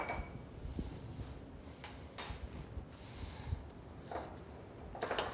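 Ice clinking and rattling against a mixing glass as a cocktail of classic Irish whiskey is stirred, with soft, irregular taps and chinks that come in small bursts, fairly quiet and close.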